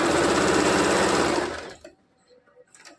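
A sewing machine runs fast and loud, close up, in a steady mechanical whir while topstitching a katori blouse, then stops abruptly after about a second and a half, leaving faint handling clicks.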